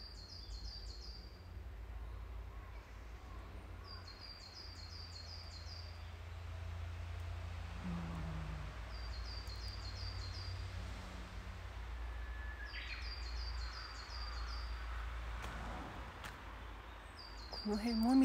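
Distant birds call in short, repeated chirping bursts every few seconds over a steady low outdoor rumble, with a brief voice-like sound near the end, in woods in Kita-Karuizawa, Japan.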